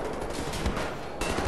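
Dense, rapid gunfire in the shooter game Wolfenstein: The New Order, a continuous rattle of overlapping shots and blasts that fills the whole stretch at a moderate level with no pauses.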